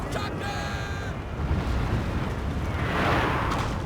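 Cannon fire booms in a Napoleon: Total War battle, with heavy rumbling blasts layered over dense, continuous battlefield noise and a swelling roar near the end.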